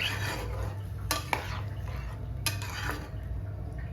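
A spoon scrapes and clinks against a pan while aloo dum gravy is stirred after water is added, with soft sloshing, a few sharp metallic taps and low background hum.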